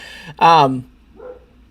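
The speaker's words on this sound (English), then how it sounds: "if you can hear my dog barking, I apologize" A dog gives one sharp, loud bark nearby, followed by a softer, shorter yip or whine a moment later, with a quiet room around it.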